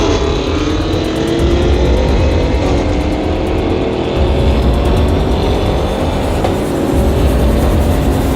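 A Range Rover accelerating hard, its engine roaring loud and close with rising revs held steadily over several seconds, no voices.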